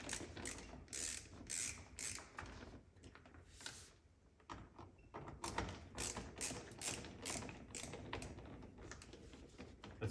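A ratchet works screws loose on a Toyota GR Corolla, giving quick bursts of close clicking in uneven runs with a short pause midway, fairly quiet and with no talking.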